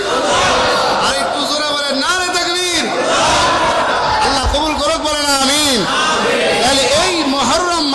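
A crowd answers a takbir call at a religious gathering, with loud overlapping shouts and chanting rising in waves over a speaker's voice.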